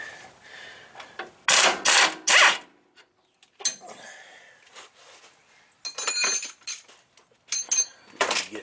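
A small ratchet wrench loosens a 19mm strut bolt on a Nissan Titan, giving close, bright bursts of rapid ratcheting clicks separated by short pauses and light metal handling.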